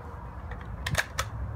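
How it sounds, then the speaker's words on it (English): A SKS rifle magazine is removed during a reload in Escape from Tarkov, heard as two short, close mechanical clicks a fraction of a second apart over a low background hum. "I'm gonna take the magazine out like I'm reloading"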